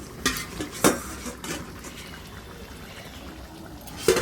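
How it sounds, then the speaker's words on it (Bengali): Chicken curry being stirred in a pot, with several sharp clinks and scrapes of a metal spoon against the pot spaced over a low simmering background, close and clear. "নেড়ে চেড়ে ভালো করে নেড়ে কষে নেব।"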